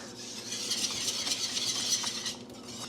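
A spoon scrapes and stirs a garlic chicken sauce in a pan, with soft clinks and faint sizzling up close, continuing steadily throughout.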